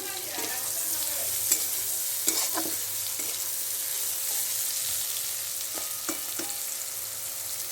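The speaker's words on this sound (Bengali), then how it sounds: "এখন এই যে পটল ভাজাটা হচ্ছে" Pointed gourd (potol) pieces fry in a pan with a soft, steady sizzle and occasional light clinks and scrapes of stirring. The sound is quiet and close, with no voices.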